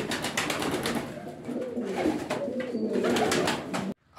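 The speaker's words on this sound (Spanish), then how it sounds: "Palomo de la raza antigua, un palomo con buena cabeza, buenas narices" A buchón pouter pigeon of an old breed coos in a loft, with low, rolling, continuous cooing close by, mixed with fluttering and rustling from other birds, before a sudden brief cut to quiet at the end.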